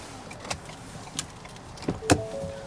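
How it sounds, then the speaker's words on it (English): Power windows of a 2020 Ford Explorer Limited whir briefly, with a few short motor runs and clicks heard from inside the cabin at close range, no talking. "On the limited trim, all 4 windows are fully automatic."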